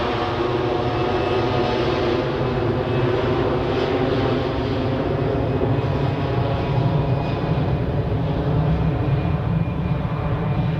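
A Qatar Airways airliner at Zurich Airport gives a loud, steady engine roar that holds unbroken and close throughout, with no voices over it.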